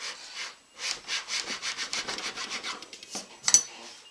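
A flat metal file rasps across wood while shaping a guitar neck pocket, in a series of quick back-and-forth strokes, close and fairly quiet, with a few sharper scrapes near the end.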